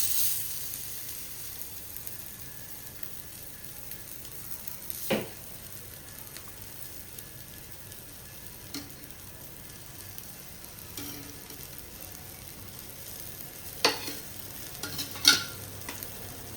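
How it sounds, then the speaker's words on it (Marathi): Konkan-style bombil fish frying in hot oil on lowered heat, a soft, continuous sizzle with a few sharp clicks and pops, faint and steady with no talk. "तेल तापलेलं आहे, आपण थोडा गॅस कमी करून घेऊया आणि आता ते फ्राय करायला ठेवून घेऊया।"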